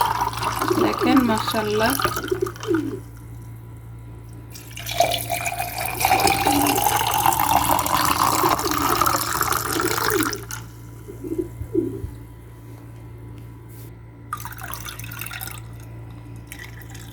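Raw mango sharbat is poured over ice into a glass, making a steady liquid stream whose pitch rises as the glass fills. Someone speaks briefly before and after.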